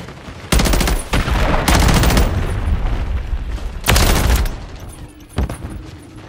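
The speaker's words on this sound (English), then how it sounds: "Hostiles launched a cruise missile." Cruise missile strike in Call of Duty Modern Warfare 3: heavy booming blasts in several loud bursts, with rumbling decay and quieter crackling gunfire-like impacts between them.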